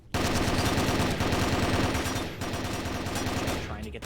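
Rapid automatic gunfire from a heated Warzone firefight, loud and sustained as dense overlapping bursts with brief gaps, fading near the end.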